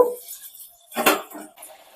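Radhaballavi dough is eased into hot oil in a wok, bringing a single close clatter of metal on the pan and a short sizzling burst, with quiet before and after.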